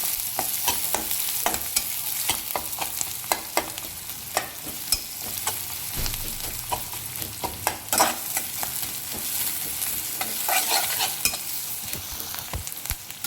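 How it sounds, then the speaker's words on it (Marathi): Chopped onion for mutton keema sautéing in a pan, a steady close sizzle and fry broken by frequent scraping and clacking stirs from a spoon against the pan, with no talking. "आता हे चांगलं लाल होईपर्यंत आपण कांदा हा परतून घेऊया"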